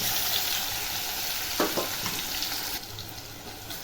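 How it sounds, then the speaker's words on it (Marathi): Cumin and ground masala paste fry in hot oil in a cooking pot, giving a close, continuous sizzle with a few faint knocks. There is no talking. "आता जिरं टाकते जिरं चांगलं फ्राय झाल्यावर हे वाटलेलं वाटण टाकते"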